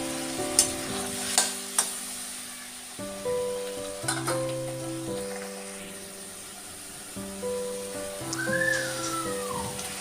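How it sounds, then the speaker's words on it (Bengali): Chopped tomato sizzles steadily in a hot pan while a spatula scrapes and clinks through it in several sharp strokes, with a faint tonal hum in the background. "আমি কষা করে নিই টমেটো কুচিটাও।"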